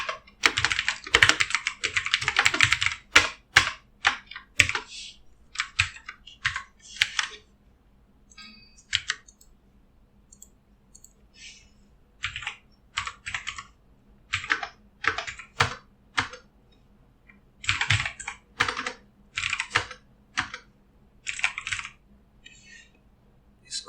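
Typing on a computer keyboard during spreadsheet data entry, quick close bursts of key clicks separated by short pauses, alone in a quiet room.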